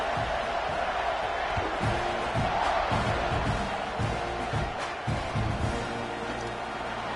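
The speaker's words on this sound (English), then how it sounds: "this crowd is buzzing after that last score" At an American football game, a stadium crowd keeps up a steady, distant buzzing roar after a score, a faint, continuous wash of murmuring voices with occasional swells.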